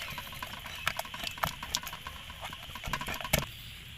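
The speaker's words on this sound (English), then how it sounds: "Fish everyone, fish sauce, sugar palm everyone, then we mix it like this." Noodle salad being tossed with fish sauce and palm sugar, giving soft, irregular wet clicks and patters. A few sharper taps stand out over a quiet background hiss.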